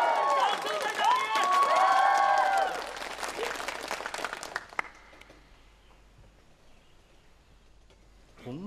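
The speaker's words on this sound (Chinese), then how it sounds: "掌声在哪里？" A studio audience at a wedding-style celebration in a Chinese television drama bursts into loud applause and cheering, which swells for a few seconds and then fades away into near silence.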